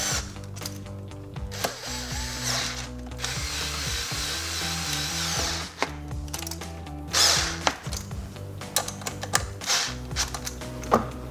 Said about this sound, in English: I'm going to use the electric screwdriver to just get them the rest of the way in